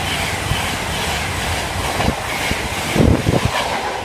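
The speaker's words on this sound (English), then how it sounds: "The approaching trains do not stop at this station." A train runs through a station without stopping, a loud steady rumble with rhythmic clickety-clack wheel thumps and a brief surge near the end.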